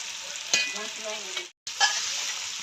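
Onions sizzle steadily in a pan for chilli chicken, a close, bright hiss with a couple of sharp stirring scrapes, interrupted by a short cut.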